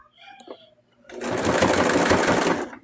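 Sewing machine running steadily as it stitches a plush toy, a loud continuous motor whir starting after a second of quiet handling noise and holding to the end.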